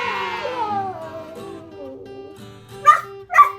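A dog gives a long, falling whine or howl, then two short, sharp barks close to the listener, with no one talking.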